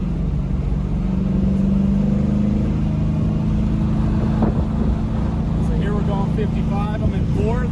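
An LS-swapped 1970 Chevrolet Camaro on Mickey Thompson drag radials cruises steadily down the road, a low, even engine drone holding throughout with a passing swell near the middle, while people talk inside the car.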